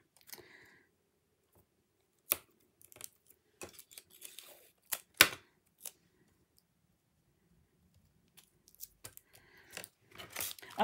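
Scissors snip through stamped paper in scattered bursts of sharp crisp cuts, separated by quiet pauses, close and clear with no talk.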